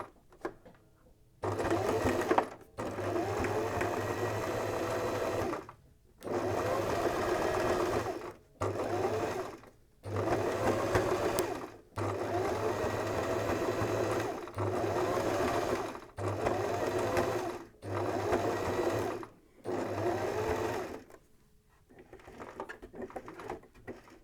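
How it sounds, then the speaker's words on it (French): A home sewing machine stitching a zigzag seam through fabric, running in repeated bursts of a few seconds each, separated by brief stops for lifting and pivoting. "je vais avoir un chouette petit point zigzag qui sera bien beau"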